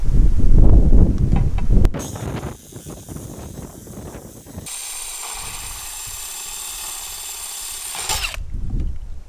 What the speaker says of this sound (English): this is thicker glass as well, so I can go a bit harder